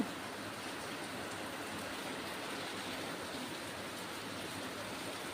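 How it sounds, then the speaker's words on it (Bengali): Rain falls steadily, heard from a balcony as an even, continuous broadband hiss with no distinct drops or voices. "দেখো কি বৃষ্টি হচ্ছে"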